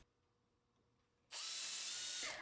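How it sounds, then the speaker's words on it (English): A power drill bores a pilot hole with a small bit into a wooden dresser, its steady high whine starting abruptly after quiet and running loud and close for about a second before stopping. "I drilled a pilot hole with a smaller bit first, then I switched to a larger one to make a bigger hole"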